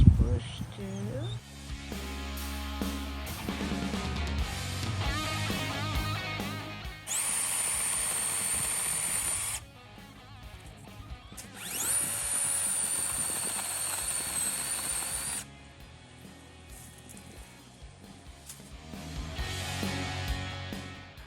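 An ORBLON cordless 6-inch brushless mini chainsaw cuts through garden bushes in two sustained, loud whining bursts of several seconds each, with quieter motor handling and rustling in between and a voice talking at times.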